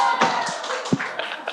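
A small group of friends claps at a book concert, a few scattered, uneven hand claps in a quiet room, fairly close and brief.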